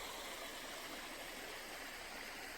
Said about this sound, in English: you want to hear the rumble of the water as you hike up a mountain or down a stream